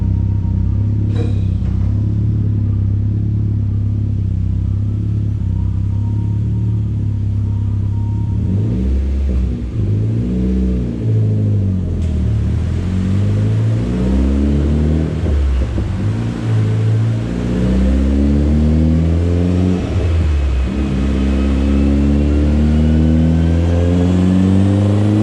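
A Mitsubishi Evo X with a GTX3076 turbo, 1200cc injectors and flex fuel runs on a dyno, a loud deep engine drone that climbs and falls through repeated revs, close and continuous.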